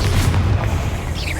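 A single Confringo blasting spell erupts in the video game Hogwarts Legacy, one loud, heavy booming explosion that rumbles and fades over a brief second and a half.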